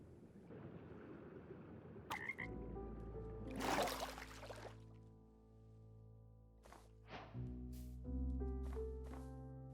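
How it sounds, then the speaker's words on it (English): Minecraft frog croaks and ambient game sounds, a few short croaking calls with pauses, alongside water-like trickles and brief chimes over a steady low in-game background tone. "we need to get each frog variant on our lead"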